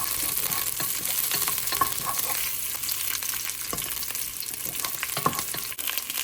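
Onion and serrano pepper sautéing in oil in a pan, a steady close sizzle with occasional stirring clicks and pops throughout, no talking.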